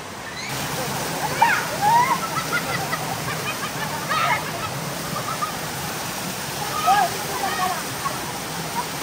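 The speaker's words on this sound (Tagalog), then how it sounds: "Dito naman yun sa Antong Falls." Antong Falls waterfall pours with a steady broadband rush through the whole stretch, with faint chirping calls and a few soft voices over the constant water noise.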